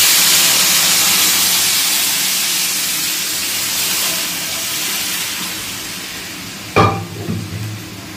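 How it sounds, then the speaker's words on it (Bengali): Boiled pea water poured into a hot pan of spiced peas for ghugni, giving a loud, steady steam hiss that fades slowly, then a brief clatter near the end. "মটরের সিদ্ধ জলটা দিয়ে দেবো"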